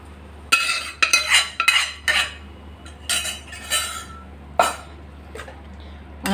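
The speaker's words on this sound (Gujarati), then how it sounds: "હવે આપણે જે છોલે બાફીને રાખ્યા હતા એ પાણી સાથે જ તમારે આ બધું અંદર નાખી દેવાનું છે" Boiled chickpeas and their water going into tomato gravy and stirred, with close spoon clatter and scraping against the pot in short irregular bursts over a low background hum, no talk.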